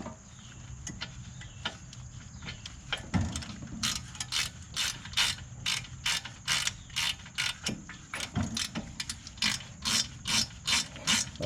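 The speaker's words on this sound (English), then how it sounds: "You're gonna tighten back down your bolts." A ratchet wrench clicks in quick repeated bursts as brake caliper bolts are tightened on the front brakes of a 2010 VW Beetle, close and clear with a steady high tone behind it.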